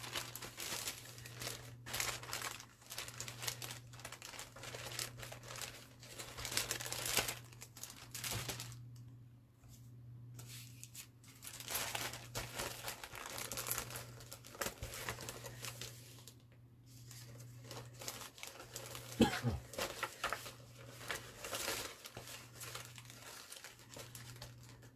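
Someone rummages through a bag of paper craft pieces and trees waiting to be cut out, making close, busy crinkling and rustling in bursts with short pauses, under a faint steady hum.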